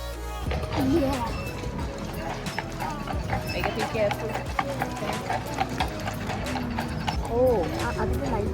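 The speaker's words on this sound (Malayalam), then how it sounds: "ഈ കുതിരയാണ് നമ്മളുടെ സാരഥി" A horse pulling a carriage clip-clops at a steady walking rhythm, hooves ringing on pavement close by, while people talk over it throughout.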